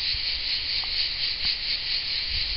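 Cicadas in a Provençal mountain landscape in southern France, an unbroken, loud, shrill buzzing drone that holds steady throughout, with faint low outdoor rumble beneath and no voices.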